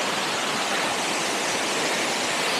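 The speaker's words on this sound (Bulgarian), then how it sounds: "Вече съм в подножието на водопада." Steady, dense roar of falling water heard close at the foot of Bovska Skaklya, an 85 m waterfall with ice at its base, continuous and loud with no voices.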